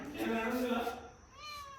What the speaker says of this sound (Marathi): किती मांजर माहिती का आमच्या. 4 मांजर आहे.